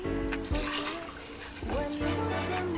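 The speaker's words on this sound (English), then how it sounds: "First I'ma pour some ammonia solution." Ammonia solution poured into a container during a car battery purification experiment, a gushing liquid splash in two bursts with a brief pause between, close and fairly loud, over faint background tones.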